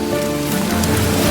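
Steady rain pattering on leaves and the forest floor in the Periyar Tiger Reserve, a dense, even hiss that runs unbroken and fairly loud with no voices over it.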